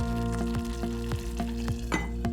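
Chicken white handi sizzling and frying in an earthenware pot, a steady close bubbling sizzle with a string of small regular pops and no talking.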